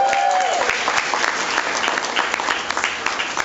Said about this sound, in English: Thank you for your polite applause.